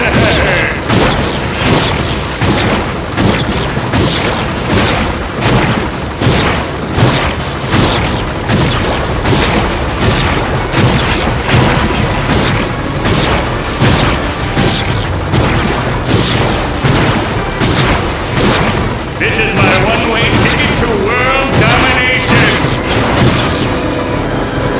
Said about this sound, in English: It's blocked here, but not if I blow it up!